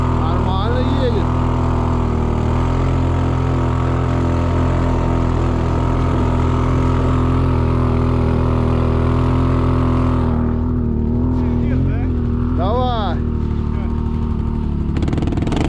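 An RM 800 Duo snowmobile engine drones loud and steady as the machine runs through water, with shifting pitch and excited voices over it.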